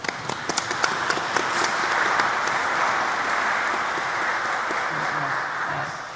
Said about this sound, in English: Why don't we give them a little clap?